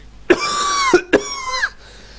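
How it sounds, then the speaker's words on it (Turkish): Two close, forceful coughs in quick succession, each a short rough burst, with no talking around them. "Sen öksürüyor mu ne yapıyorsun?"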